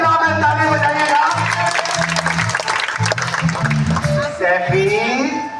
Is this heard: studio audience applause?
yes